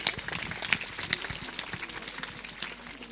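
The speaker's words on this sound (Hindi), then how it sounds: "एक बार जोरदार तालियां होनी चाहिए।" Scattered clapping from a small audience at a quiz event, uneven and quiet, with a few sharper claps standing out and some low background voices.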